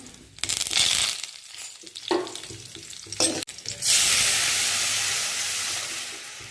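Loud, steady sizzling hiss of mustard seeds popping in hot oil, following a few seconds of scraping and stirring sounds.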